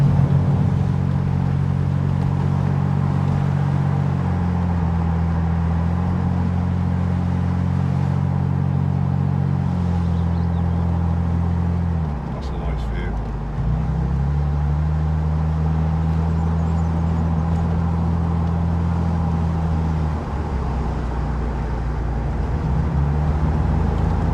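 An older car drives along a valley road in Wales, its engine a steady, loud low drone heard from inside, with brief shifts in pitch as it changes speed, and no talking.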